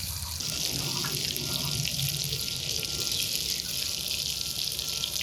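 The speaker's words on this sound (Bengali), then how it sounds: "এখন শিলপাটা ধুয়ে জলও দিয়ে দিব।" Water runs steadily from a tap while a stone grinding slab is washed, producing a constant close rushing splash with no pauses and no voices.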